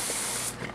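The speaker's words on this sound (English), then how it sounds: "Now I do want to take my garden hose and I do want to spray this down just a little bit like this" A garden hose spraying water onto a stucco wall to dampen it, a steady close hiss of spray that cuts off briefly near the end.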